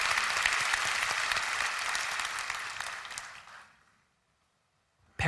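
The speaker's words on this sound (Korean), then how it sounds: "하나님께 영광의 박수를 올려드리겠습니다" A church congregation applauds, dense sustained clapping that fades out into silence after about four seconds before a brief sound at the very end.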